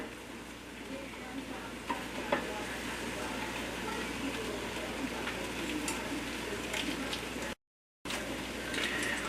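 Beaten egg sizzling and frying in a hot pan while tamagoyaki is rolled in layers, a steady crackling hiss with faint scraping and stirring throughout, close and moderately loud.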